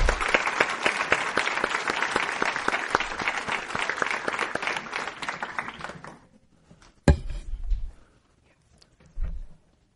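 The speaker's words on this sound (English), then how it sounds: "please join me in one more round of applause for all of our 5-star schools." A school board meeting audience claps in a dense, lively burst of applause that lasts about six seconds and then dies away. A couple of short thumps and a murmur follow in the quiet room.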